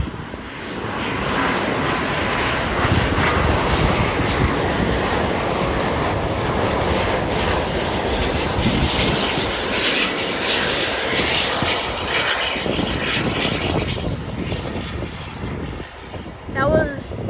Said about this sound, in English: we got an Airbus A350-1041 Etihad Airways arriving in from Abu Dhabi